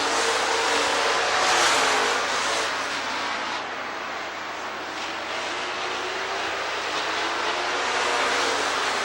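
Race cars roaring past at Rockford Speedway, a dense sustained engine drone that swells and eases slightly as the pack circles, loud and continuous with no voices.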